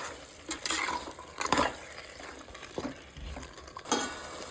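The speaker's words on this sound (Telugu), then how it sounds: "అది మొత్తం బాగా కలుపుకోవాలి." A spoon stirs chicken curry in a pan with repeated scraping strokes and light metallic clinks against the pot. A soft sizzle runs beneath, and the whole sound is quiet and close.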